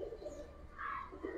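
Faint, low pigeon coos from a loft of Giribaz and colour pigeons, a brief throaty call rising and falling among other soft bird sounds.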